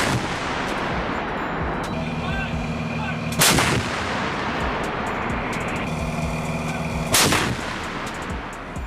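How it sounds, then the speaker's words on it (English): Two heavy booms from a Paladin M109A6 self-propelled howitzer firing artillery rounds, a few seconds apart, each a sharp loud blast over a constant engine rumble and hum. "The Paladin M109A6 fires the first round from the move in under 60 seconds."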